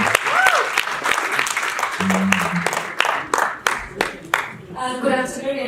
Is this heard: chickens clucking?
no